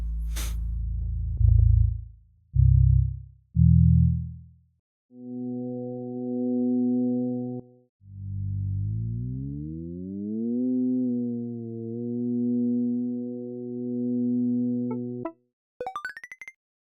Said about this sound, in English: It's gonna play a frequency and I have to match the frequency to the sound.